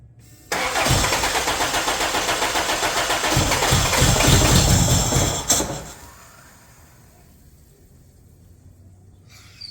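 A Toyota 22RE engine in a 1994 pickup cranks and catches with a loud, rough roar for about five seconds, then cuts out abruptly, leaving a faint background hum.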